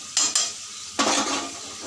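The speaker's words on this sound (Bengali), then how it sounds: "আলুটা ভালো করে ভেজে নেব।" Potatoes frying in a pan as ginger paste and ground coriander go in, with short scraping stirs near the start and a louder sizzling burst about a second in, close by.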